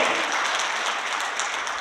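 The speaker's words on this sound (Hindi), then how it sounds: "ये जितने भी तालियां बजा रहे हैं ना" An audience at a business presentation in Delhi claps continuously, a dense, steady wash of applause close by for the whole moment.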